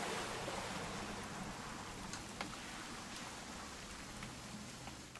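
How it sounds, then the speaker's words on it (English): Rain falls steadily in the video game What Remains of Edith Finch, a continuous soft hiss with scattered drips and patters, no voices. "It's gonna rain the whole weekend, isn't it?"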